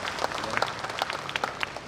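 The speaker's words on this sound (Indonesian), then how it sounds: "Tepuk tangan saudara." Scattered applause from a small group at the opening ceremony of a Tzu Chi charity health service event, light and uneven claps over a couple of seconds, moderately close.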